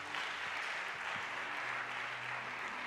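A church congregation applauding, steady broadband clapping sustained throughout, with faint low tones underneath.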